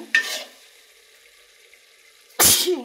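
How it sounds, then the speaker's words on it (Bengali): Spices being stirred and fried down in a pan for a tilapia, taro stolon and red amaranth dish, heard as two short bursts of sizzling and scraping near the start and end, with near silence between. "দেখো মশলাগুলো কষানো হচ্ছে"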